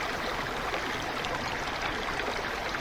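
Water gushing and overflowing from a water column filling a steam train's tank in an animated scene, a steady close splashing rush with no talk over it.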